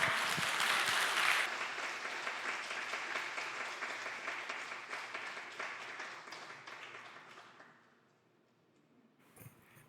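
A church congregation at a Sunday autumn revival service applauds the pastor's entrance. The dense, lively clapping swells at the start, then gradually thins and fades out.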